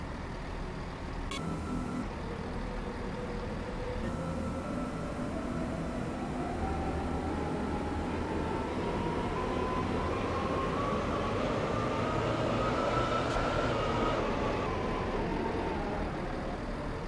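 A passenger train pulls into its terminating station at Esterfield, a steady rumbling roar with a slowly rising whine as it slows, plus a couple of brief high clicks, with no voices.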